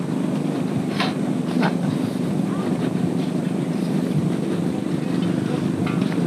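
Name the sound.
strong wind blowing on the microphone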